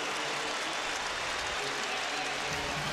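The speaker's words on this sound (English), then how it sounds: "Applaud from the sidelines." A large stadium crowd at a 2008 SEC Championship college football game between Alabama and Florida applauds and cheers after an extra point, a dense, steady roar of clapping and crowd noise throughout.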